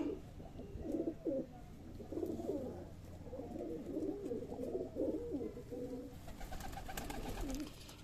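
Several pigeons coo in low, throaty repeated calls, fairly close, with soft rustling in the background.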